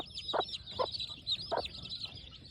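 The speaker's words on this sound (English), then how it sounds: "they're just yard fowl" Gamefowl yard chickens clucking outdoors, several short close clucks spaced irregularly over a constant background of chirping birds.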